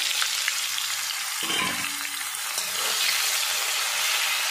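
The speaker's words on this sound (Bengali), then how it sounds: "পেঁয়াজটা ভাজা হয়ে গেলে তারপরে মশলাটা দেবো।" Onions fry in hot oil for mutton biryani, giving a continuous close hissing sizzle with a few soft stirring scrapes and brief clatters midway, no voices.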